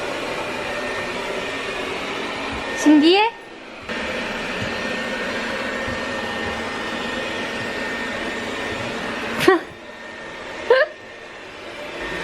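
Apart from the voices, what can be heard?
robot vacuum cleaner running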